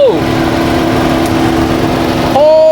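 A 2019 Nissan March with a 1.2-litre, 79-horsepower engine runs with a loud, steady whirring hum, close up, its pitch shifting briefly near the end.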